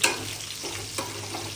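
A spoon stirs onion frying in a pan, giving a steady sizzle broken by a few scraping strokes. The sound is fairly quiet and close, with no talk.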